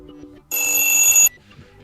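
A default alarm melody plays on a Huawei P10 Lite phone, a short bright electronic chime that sounds once for under a second and then stops.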